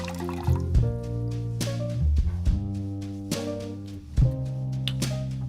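Water pours into cider vinegar to make a pickling liquid, giving a gurgling, splashing fill with dripping bursts and a rising ringing tone as the container fills, close and clear with no talking.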